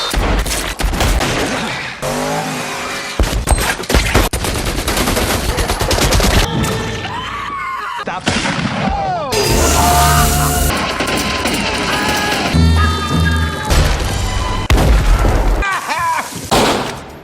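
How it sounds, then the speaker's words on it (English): Rapid bursts of movie gunfire, fusillades and machine-gun volleys with heavy booms, fill a loud, dense action soundtrack mixed with music and effects, with brief gaps between volleys. "No one wants to just hear a gunshot."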